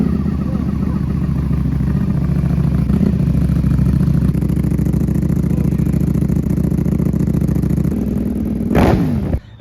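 A Ducati V4S motorcycle fitted with honeycomb dB killers runs on a cold start, a loud, steady, close idle with a fast throbbing rumble that holds for about nine seconds before a sharp rev and sudden cutoff.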